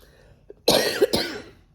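A person coughs a few times in quick succession, harsh and close, after a moment of near silence.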